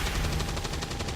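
Rapid automatic gunfire in XCOM 2, a dense burst of evenly spaced shots rattling continuously through the whole brief moment, loud and close.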